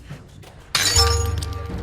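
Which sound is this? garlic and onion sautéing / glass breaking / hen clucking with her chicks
glass breaking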